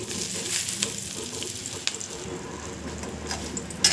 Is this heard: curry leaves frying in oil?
yes